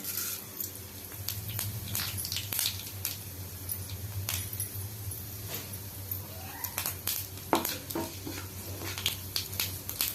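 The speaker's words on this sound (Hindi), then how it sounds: "एथिरे सुखिला लंका आ पंच फुटण को देई फुटाइबा" Dry red chillies and panch phoron splutter in hot oil in a kadai, a close, irregular run of sharp crackles and pops over a low hum, with no voices.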